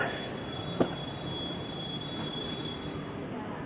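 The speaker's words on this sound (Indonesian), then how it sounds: "Masuk ke jalur 1. LRT tujuan Pegangsaan 2." A purple-liveried Jakarta LRT train pulls into platform 1 bound for Pegangsaan 2, a steady broadband rumble of the light-rail carriage with a thin high squeal and one brief clank near the start.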